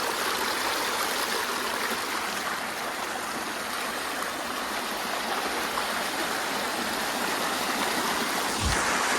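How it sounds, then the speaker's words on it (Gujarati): Water runs out of an overflowing pond after unseasonal rain, a loud continuous rushing and gurgling flow, close by and unbroken throughout. "કેવું સરસ મજાનું આછું પાણી જાય છે."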